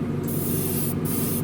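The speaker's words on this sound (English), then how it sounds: "I'm going to spray some silver on this spoon right over the blue" Silver spray paint hisses from an aerosol can onto a spoon in two steady bursts, with a brief pause between them, close and loud over a low background hum.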